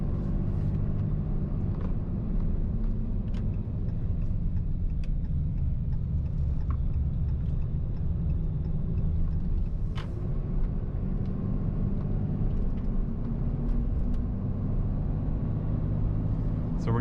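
A 2015 Ram 2500 pickup with a Cummins diesel engine driving and accelerating gently onto a freeway at low RPM, heard as a steady, dense low rumble from inside the cab with no talking.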